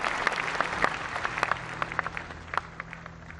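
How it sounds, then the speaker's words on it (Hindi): Enthusiastic applause from a large audience at a public event, dense clapping held steady for a few seconds with sharp individual claps standing out. "जोरदार तालियों से इनकी हौसला अफजाई करें।"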